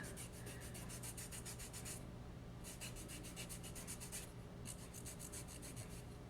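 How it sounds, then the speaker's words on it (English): Fine grit file rasped across elbow skin, a soft steady scratchy rubbing in three long passes with short pauses between, close and quiet. "now that I got it all filed down"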